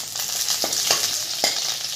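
Onions and curry leaves, with bay leaf, stone flower and marathi moggu, frying in hot oil for mushroom gravy; a steady close hiss of sizzling with a few soft scraping stirs, no voices.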